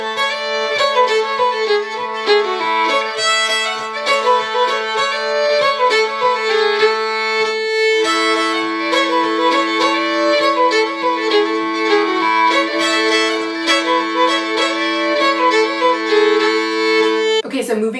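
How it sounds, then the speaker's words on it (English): A fiddle holds a single sustained note as backup while a lively reel in a major key plays over it, the drone steady and continuous throughout, with a brief break partway through. "Usually you can just hold the note through the entire tune."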